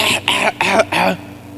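A voice imitates a cough with three or four quick, harsh bursts in a row, close and clear.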